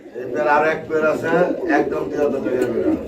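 A pair of Nun pigeons coos softly beneath a man's close, continuous talking.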